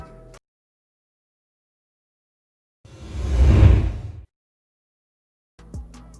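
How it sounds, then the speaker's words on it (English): A single swoosh sound effect rises and fades in one smooth sweep of about a second and a half, loud and alone against near silence, with brief unrelated sounds at each end. "you add a sound effect like a swoosh"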